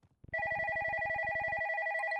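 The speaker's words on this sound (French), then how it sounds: "Le téléphone est très fort." A telephone bell starts ringing after a couple of soft knocks, a bright, fast-pulsing ring that is loud and close and lasts about two seconds.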